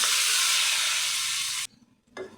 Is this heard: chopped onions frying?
yes